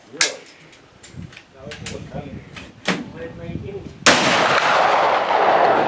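A loud blast from a trapdoor Springfield rifle at an outdoor Victorian rifleman shoot, a sudden heavy boom with a long rolling tail, preceded by metallic clicks, clanks and excited voices nearby.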